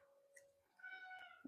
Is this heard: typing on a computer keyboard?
no